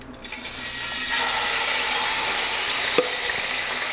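Beef pieces hit hot oil in a pan, bursting into a loud, steady sizzle that holds for several seconds with a faint clink partway through.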